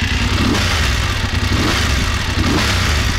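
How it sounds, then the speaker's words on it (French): A BMW F850 GS motorcycle engine runs steadily, with a loud clutch noise rattling close over the continuous mid-pitched drone and no talk. "entend l'embrayage fait un gros bruit"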